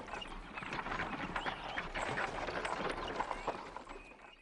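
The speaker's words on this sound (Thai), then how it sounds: "หยุดรถม้าก่อนสิ" Hooves of a horse-drawn carriage clip-clop in a steady, quick rhythm at moderate distance, mixed with faint rolling noise, no talk.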